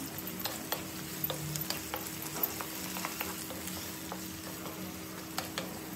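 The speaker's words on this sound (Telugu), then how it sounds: "1 స్పూన్ మినప్పప్పు, నానబెట్టుకున్న శనగపప్పు, 2 పొడుగ్గా కోసుకున్న ఆనియన్, 2 పచ్చిమిర్చి, ఇంకా కరివేపాకు వేసుకొని బాగా వేపుకుందాం." Urad dal, soaked chana dal, sliced onion, green chillies and curry leaves fry in hot oil, sizzling steadily close by while a spoon stirs with soft scraping clicks.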